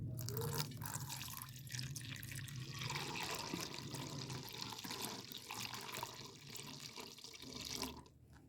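Homemade licorice drink pours steadily into a bottle with a continuous splashing gurgle close to the mic, ending abruptly near the end.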